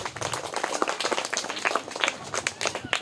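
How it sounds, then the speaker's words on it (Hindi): Young schoolchildren in a class 3 classroom clap for the third-place quiz winner, a close, uneven patter of many small hands with some voices mixed in. "तो इनके लिए जोरदार ताली हो जाए"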